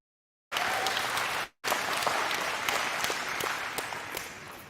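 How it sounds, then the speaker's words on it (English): An audience claps at a live jail-hosted talk event in a steady burst, broken by a brief gap, then continuing at a fairly even level as the applause slowly thins, heard from a moderate distance. "That's a clap."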